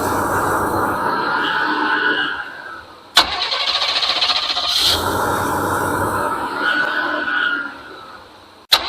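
A freshly primed carburetor engine runs at a high idle in two sustained stretches of steady droning. Sharp clicks or knocks break the running between the stretches.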